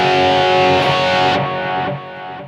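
A sustained electric guitar chord through a BOSS eBand JS-10 rings out with delay repeats trailing behind it, dry and without reverb, then decays.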